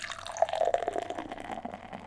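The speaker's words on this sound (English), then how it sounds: "Let's get into the theatrics of a 5-minute pour." Beer is poured slowly into a pint glass with a centre pour, giving a soft, steady trickle and gurgle of liquid with faint fizzing, fairly quiet and close, with no talking.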